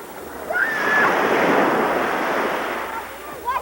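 Surf rolls and washes along the rocky Newfoundland shore, a broad, steady rush of breaking sea waves with a little wind noise, heard alone without any voices.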